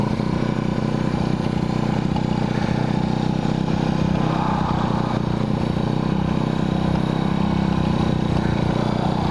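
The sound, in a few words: 1981 Yamaha XS400 Heritage motorcycle engine running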